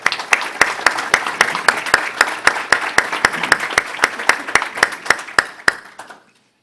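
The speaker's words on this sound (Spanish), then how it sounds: "Un aplauso, por favor." An audience applauds at a book presentation on maritime law and international trade, with steady rhythmic clapping that stays loud, then stops abruptly.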